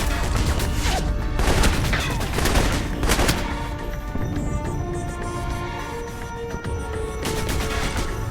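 Gunfire in the video game Alpha Protocol as an enemy shoots from cover: bursts of rapid shots and cracks come in clusters, loud and dense throughout, with no talk.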